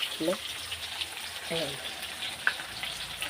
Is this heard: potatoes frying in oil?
yes